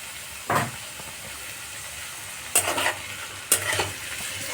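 Chilli cauliflower manchurian fries in a pan over raised gas, a low steady sizzle punctuated by three sharp bursts of hissing and scraping as it is stirred, close by, with no speech.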